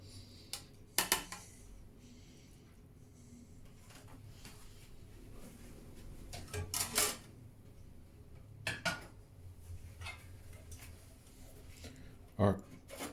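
Clinks and knocks of dishes and cutlery as gnocchi in a butter and black truffle sauce is plated, scattered sharp taps standing out at intervals over a quiet background with faint talk.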